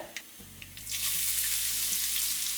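Urad dal and chana dal roast in a hot pan, a soft crackle at first that swells after a moment into a steady, close sizzle of frying that carries on to the end without pause.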